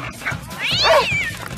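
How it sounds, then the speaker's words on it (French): A cat gives one loud, drawn-out meow that rises and falls, close and alone over faint background noise, in an animated cartoon scene. "Oh non, un chat!"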